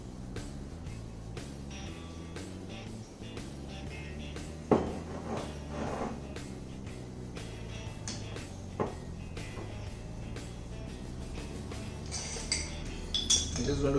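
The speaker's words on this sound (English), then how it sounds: "I'm just going to give all this a nice stir so that the lime, honey and the alcohol, all the fruits and spices, they just mix together." A spoon clinks and scrapes against a glass or mug while stirring a hot toddy of lime, honey, brandy, fruits and spices, with sharp taps scattered over a steady low background.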